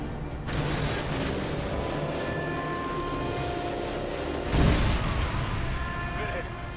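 AGM missile strikes in Call of Duty: Modern Warfare 2 blast over a constant roar of aircraft and distant rumbling fire, with one heavy, booming impact standing out partway through.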